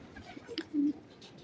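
Pigeons cooing in soft, low, rounded bursts, with one longer coo standing out, close and fairly quiet.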